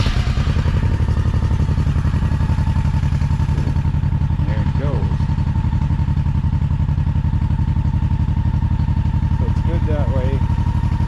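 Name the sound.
Honda Shadow Spirit VT1100C motorcycle engine starting and idling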